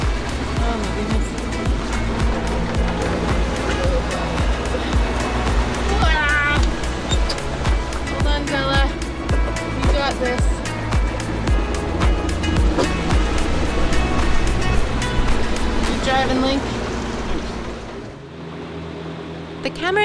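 Ocean waves wash and rush around a sailing boat at sea, a steady loud surge with wind and boat noise throughout, fading at the end.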